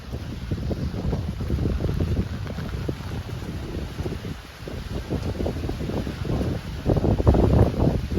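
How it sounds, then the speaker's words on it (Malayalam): Strong wind with rain at Marian College, Kuttikkanam, a loud continuous rushing roar buffeting the microphone, swelling and easing throughout with no voices. "നല്ല മഴയും നല്ല കാറ്റുമാണ്, ഒരു രക്ഷയില്ലാത്ത കാറ്റാണ്."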